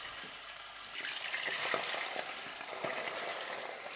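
Meat for kavurma hitting very hot fat in a pan, a busy close crackle and spatter of frying that rises as the pieces go in and keeps popping steadily.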